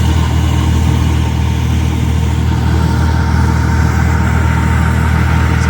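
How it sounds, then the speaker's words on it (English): A wood chipper engine runs steadily at close range, a loud, continuous mid-pitched drone with a chugging, rumbling texture and no pauses, while brush from freshly cut trees lies waiting to be chipped. "he just backed in the chipper again, and they turned the chute over towards the wood chip pile"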